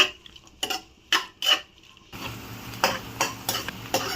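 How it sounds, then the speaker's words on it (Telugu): Thinly sliced long onions hit hot oil and ghee for a mutton biryani, with a few sharp stirring clacks first, then a steady close sizzle punctuated by rhythmic spatula strokes and no voices. "ఇప్పుడు ఇందులోకి ఆనియన్స్ సన్నగా పొడుగ్గా తరిగి తరిగాను దీన్ని ఫ్రై చేసుకుందాము"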